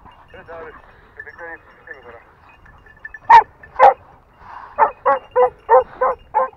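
Hunting dogs bark in quick repeated bursts during a wild boar hunt. They start with scattered yips and whines, then give two loud close barks, and finish with a rapid run of six strong barks. Someone talks in between.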